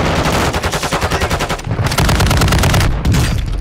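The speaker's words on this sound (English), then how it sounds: "Whoa, I got sniped!" Gunfire in Call of Duty Warzone, loud and close: a rapid, evenly spaced burst of automatic shots runs for over a second, then heavier blasts and rumbling follow.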